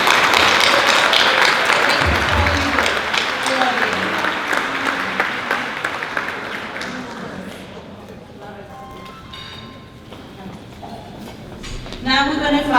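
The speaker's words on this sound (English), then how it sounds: "please give them a round of applause for these amazing people." Sustained audience applause at a foundation gala, loud and dense at first and then gradually fading, with a voice speaking over the tail end.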